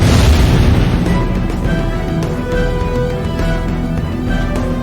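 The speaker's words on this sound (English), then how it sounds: "The sound of rain falling and thunder booming seems to do that" Thunder booms and rolls over falling rain in the DragonFable video game, a loud, broad rumble that starts strong and keeps going under a soft musical backing.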